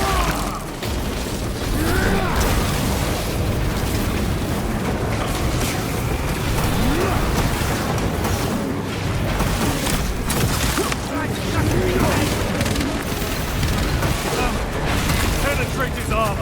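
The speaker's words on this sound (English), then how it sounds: "Using crack grenade." A crack grenade explodes in Warhammer 40K: Space Marine 2 amid dense, loud combat noise: heavy booms, clanking mechanical rattles and shattering debris run continuously, with voices mixed into the din.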